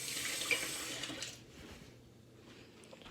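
Water pours from a kitchen tap into a glass, a close hissing splash that fades and settles as the flow stops after a second or so.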